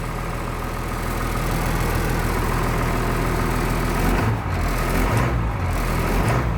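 A 1996 Blue Bird bus diesel engine idles steadily and close up, a continuous low rumble with a faint rattle and no break throughout.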